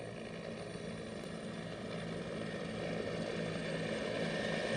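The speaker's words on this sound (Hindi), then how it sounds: "दिन और रात के ऑपरेशंस की सलाहियत के हामिल ये हेलीकॉप्टर्स अफवाज की तेज़ नक्लो हमल के लिए इस्तेमाल किए जाते हैं।" Military Bell 412 helicopters fly past the saluting stand in a Pakistan Day parade. A steady, loud rotor and engine drone with a continuous whine builds slightly as they pass, alone, with no speech.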